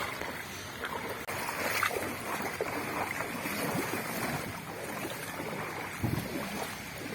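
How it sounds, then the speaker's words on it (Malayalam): Floodwater from a rain-swollen stream, about a person's depth, overflows onto a road, giving a continuous loud broadband rush of water with gusty, wind-like noise throughout. "ഈ തോട് ഏകദേശം ഒരാളെ ആഴമുണ്ട് ഇത്രയും വെള്ളം ഓവർഫ്ലോർ ആയിരിക്കുകയാണ്"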